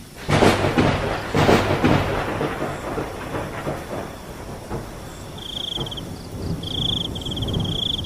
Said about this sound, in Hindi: बाहर तेज तेज बारिश और बिजली कड़क रही होती है